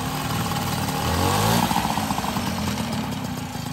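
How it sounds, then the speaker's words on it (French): An MBK 51 Club moped with a freshly rebuilt engine idles close by, a steady two-stroke putter with a light rattle that rises briefly before settling back. "La voilà, elle est démarrée. Elle tourne super bien."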